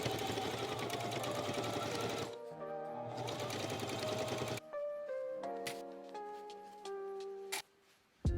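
A sewing machine stitches the neckline of a ribboned tie vest in fast, close, steady runs of rattling needle strokes. Brief stops and a few slower, clicking stitches break up the runs.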